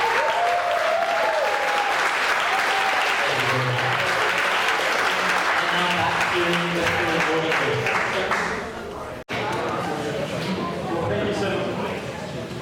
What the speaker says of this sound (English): let's just give a round of applause to our band who just played for us